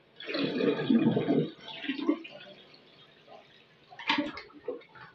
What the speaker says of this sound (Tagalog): Kaya kailangan natin siyang ipa-flush agad.